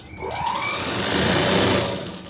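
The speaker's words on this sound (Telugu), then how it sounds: "తిప్పి రెండో కుట్టు సంకలోది వేసుకోవాలమ్మా కంపల్సరీ" A sewing machine stitches a blouse seam, its motor running in one steady, close whirring burst of about two seconds with no talking.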